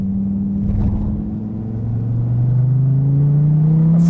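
2013 SRT Viper GTS engine accelerating hard on the front straight at Laguna Seca, a loud close engine note rising steadily in pitch with no talk.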